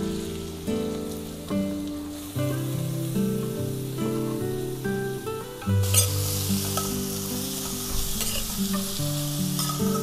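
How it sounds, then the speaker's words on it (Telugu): Onions fry in a pan with salt and turmeric, browning toward golden for a mutton kheema dish, giving a steady, fairly loud sizzle that runs the whole time beneath melodic background music, with no voices. "ఉల్లిపాయలు వేసిన తర్వాత ఉప్పు పసుపు వేసి మంచి దోరగా బ్రౌన్ ఆనియన్స్ వచ్చేటట్టుగా వేగాలి"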